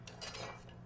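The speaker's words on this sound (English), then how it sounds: "We're gonna stir it a little bit like that." A utensil stirs crawfish étouffée in a pot on the stove, making a brief run of soft scraping and metallic clinks close by, quiet and over in under a second.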